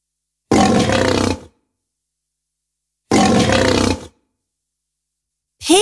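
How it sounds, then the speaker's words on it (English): A lion gives two loud, deep, grunting roars, each about a second long and separated by silence, with a third starting at the end. "Lion."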